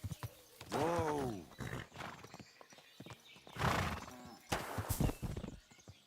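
A horse in a video game, Kingdom Come: Deliverance II, whinnies loudly with a rising, wavering call, followed by more horse snorts and hoof clip-clops, close and busy.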